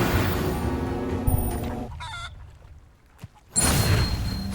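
Clucking and squawking fowl after a transformation spell turns someone into a chicken in Hogwarts Legacy, loud agitated noise that briefly drops away before returning at full strength.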